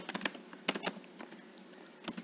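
Someone types on a computer keyboard while building a web page header, giving irregular bursts of soft, close clicks and taps with short pauses between them and no talking.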